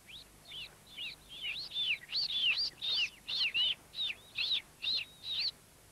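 A pair of blackbirds at their nest chirp in a quick series of clear, bright calls, about a dozen evenly spaced bursts that grow louder and sound close by, with no talking.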